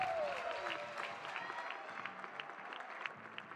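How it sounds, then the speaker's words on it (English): Baseball crowd of Virginia Tech fans applauding a pitcher as he walks off toward the dugout, a steady wash of clapping and cheering held at moderate distance across the whole stretch. "You see the Hokie faithful cheering him on as he heads for the dugout"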